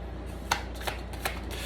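Tarot cards being shuffled by hand, quiet riffling with three crisp card snaps spaced evenly across a short stretch, close and soft.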